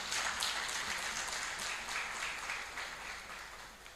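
Audience applause at a rubber value chain conference and anniversary celebration, a steady wash of many hands clapping at moderate level through the whole stretch, fading slightly toward the end.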